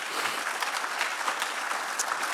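Audience applause for the sponsors at a live-streamed 2019 SUDtalks event, a steady wash of many hands clapping at moderate level throughout, with no voices over it.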